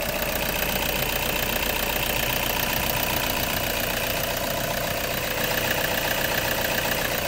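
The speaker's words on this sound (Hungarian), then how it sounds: "A mociát még hallgassuk meg, mert azt érdemes, tényleg nagyon csendes és nyugodt járású motor." A Toyota Hiace van's 2.5-litre D4-D diesel engine idles with a steady, even clatter, running smooth and unbroken at close range throughout, with no talking.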